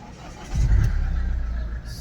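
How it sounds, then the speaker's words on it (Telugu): A 2016 Mahindra XUV500 W10 engine cranks and catches about halfway in, then settles into a steady, close, low idle rumble with no talk. "ఒకసారి ఇంజన్ స్టార్ట్ చేస్తా చూడండి."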